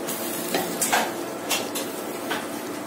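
Chicken fries in a pan for a kabsa dish, with a steady close sizzle and crackle broken by a few brief scrapes and clinks of a utensil stirring.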